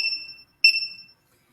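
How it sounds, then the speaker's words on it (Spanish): A temperature controller's buzzer, model ESC-961neo or EK-3030, gives two short, pure electronic beeps about half a second apart in otherwise silent surroundings. "siguen escuchando el buzzer, ¿no?"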